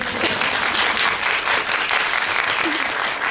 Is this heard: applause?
yes